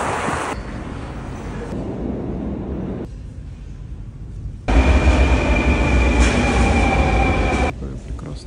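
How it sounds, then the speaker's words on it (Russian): A Kazan metro subway train rides through the underground with a steady loud rumble of wheels and carriage noise, rising sharply to a harsher roar with a high tonal whine partway through, then easing back near the end. "Пойдем в метро, прокатимся."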